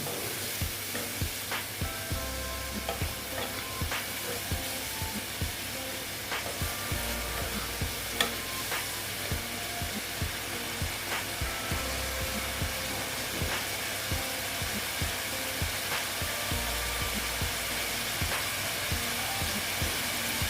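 A banana stem mixture is stir-fried in a pan with a splash of water, giving a long, steady hissing sizzle punctuated by regular clicks and scrapes of a spatula, close and continuous with no talking.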